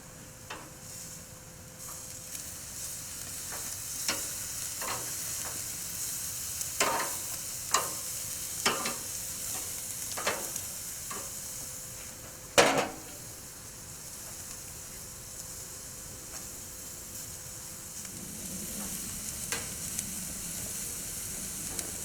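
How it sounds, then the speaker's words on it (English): Hot dogs sizzle on a grill with a steady, close hiss as they are flipped and basted, broken by scattered sharp clicks and one louder knock midway. "Time for another flip and a baste."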